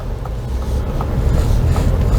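A 2023 Ford Expedition Timberline SUV pulls away on a short drive, a low rumbling engine and road noise that swells slightly louder as it gets moving.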